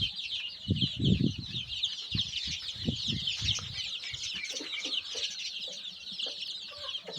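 Young Kaveri breed chickens cluck and chatter continuously in a farm shed, with a steady high flock noise and scattered louder, deeper clucks and wing rustles close by, no talking.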